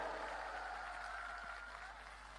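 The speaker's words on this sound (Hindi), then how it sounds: "अब अगली जो बात कह रहा हूं उस पर इससे ज्यादा तालियां बजाना।" Audience applause at a live poetry gathering, a steady wash of clapping from a large crowd heard continuously and fairly evenly, with no voices over it.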